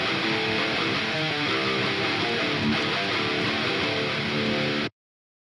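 A riff from the Odin virtual guitar instrument in an alternative rock style played without key switches, a dense, loud, distorted wall of chugging chords that runs continuously and then cuts off abruptly, with no talking.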